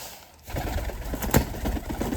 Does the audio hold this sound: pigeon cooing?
yes